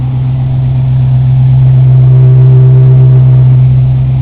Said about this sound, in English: the engine sounds real good